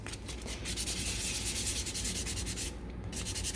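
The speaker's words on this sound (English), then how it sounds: "you can take your sandpaper and just give this a quick sand and just lighten up" Sandpaper rubs briskly over charred, laser-engraved shiplap wood, making a close, continuous scratchy hiss with a quick back-and-forth rhythm and no talking.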